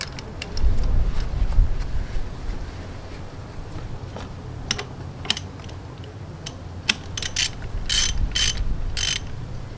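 Oil screen cap being snugged down on a 2004 Honda CRF150F, close ratchet clicks and metallic tool clacks in short irregular bursts over a low background hum.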